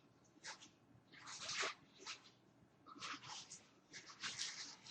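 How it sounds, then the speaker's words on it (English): A pet dog chews on a bag, making bursts of crinkling, rattling plastic noise that come and go in irregular clusters, fairly close and moderately quiet, with no talking. "that's my dog Ayla chewing on a bag."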